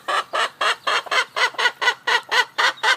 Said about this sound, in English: in our incredibly noisy chicken compost generating operation